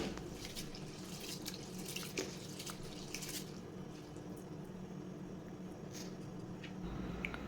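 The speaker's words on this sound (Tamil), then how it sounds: "இப்போது நல்லா இதை 3 தடவை அலசி எடுத்துகிட்டு வந்துடலாம்." Lentils and rice being rinsed in water, a steady soft sloshing and trickling with small clinks, faint and continuous, with no talk.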